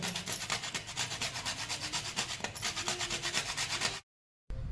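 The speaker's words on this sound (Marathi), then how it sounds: "आता याच्यामध्ये आपल्याला थोडंसं जायफळ किसून घालायचं आहे" Nutmeg is grated over coconut rice in quick, even rubbing strokes for about four seconds before the sound cuts out abruptly.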